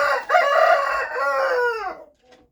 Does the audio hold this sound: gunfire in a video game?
no